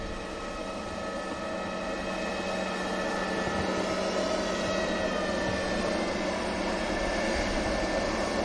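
A British Airways jet flies near Manchester Airport, its engines a steady, broad, continuous roar throughout with a faint tonal whine riding on top and no voices.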